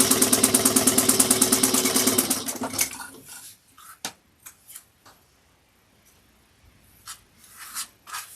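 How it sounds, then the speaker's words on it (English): A home sewing machine runs steadily for about two and a half seconds, stitching bag lining pieces at a 3/8-inch seam, then stops, followed by scattered clicks and light handling noises. "just bring it over to your machine, sew exactly"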